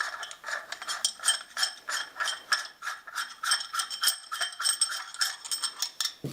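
A Celestron f/6.3 reducer/corrector is screwed onto the threads of a Celestron SCT telescope. Close, fast ratcheting clicks of metal threads repeat in a steady rhythm throughout, with no voices.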